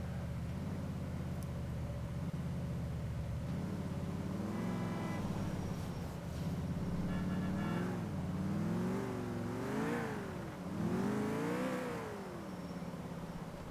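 A muscle car's engine drives in GTA IV, a steady low rumble rising and falling through repeated revs and gear changes, with louder accelerating surges toward the end and no talk.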